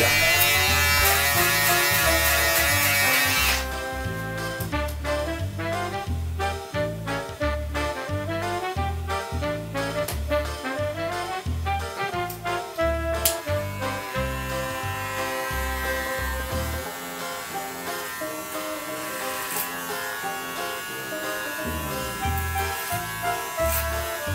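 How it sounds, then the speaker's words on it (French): An electric razor buzzes steadily and close up while a barber cuts a skin fade, a loud continuous hum that shifts in pitch as the blade moves across the head, with no talk. "Le rasoir électrique est vraiment un super outil, hein."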